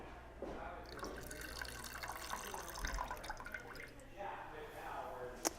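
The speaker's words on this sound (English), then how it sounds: "So go ahead and discard your water." Preheating water splashes and trickles as it is poured out of a Chemex glass carafe into a sink, a steady running stream ending with a small clink.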